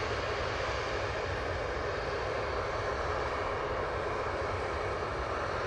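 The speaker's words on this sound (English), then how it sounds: "Right, here we go with this TUI 737 MAX 8." A TUI Boeing 737 MAX 8 at Manchester Airport gives a steady, loud broadband engine roar that holds constant throughout, with no voices.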